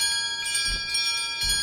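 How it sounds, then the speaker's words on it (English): Bell rung in the fantasy extraction game Mistfall Hunter, two resonant metallic strikes with sustained ringing tones, the second following about three-quarters of a second after the first, loud and close with no talking. "we're going to call our bell,"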